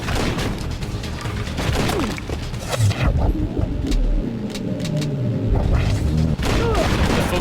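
Gunshots and booming impacts in the Wii game Red Steel, a loud, busy run of shots, crashes and mechanical clatter, with sustained game noise between the bursts.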